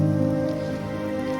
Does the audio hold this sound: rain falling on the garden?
yes